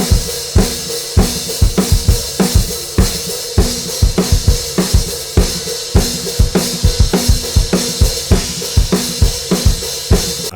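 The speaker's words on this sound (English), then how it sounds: "he will use a stereo delay" Drums captured through stereo room microphones with a fully wet stereo delay. Steady, rhythmic hits repeat through the whole clip, loud and roomy, with smeared echoing tails and no talking.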